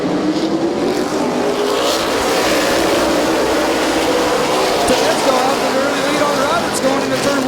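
Race cars at Midvale Speedway roar in a dense, continuous engine drone that sounds heavy and near, while a commentator talks over the noise.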